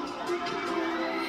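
Concert crowd at KCON LA cheering and screaming in a dense, steady roar of many voices, sustained throughout a brief moment with no single voice standing out.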